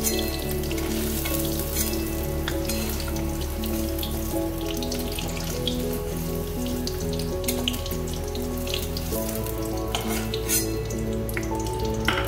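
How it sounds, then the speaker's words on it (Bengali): Boiled potatoes frying in hot oil for an aloo dum with paneer, a dense, continuous sizzle that holds steady and loud throughout, with faint background tones underneath. "এবার আলুগুলো ভালো করে তেলে ভেজে নিচ্ছি।"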